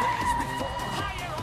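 A car drifting with tires skidding, a brief loud squealing screech that holds steady before easing slightly, close by.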